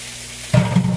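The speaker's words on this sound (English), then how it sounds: "take that little steak that we got there and add it onto this pan" A small steak lands in a hot pan and breaks into a loud, close sizzle that keeps crackling steadily for the rest of the moment.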